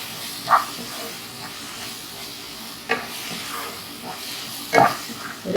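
Masala paste with spice powders sautéing in a pan for prawn and rice dumplings: a continuous low sizzle broken by a few sharp stirring scrapes, close and fairly loud, with no voices.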